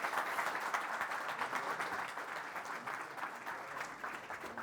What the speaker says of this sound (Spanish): despedimos a nuestros panelistas con un fuerte aplauso.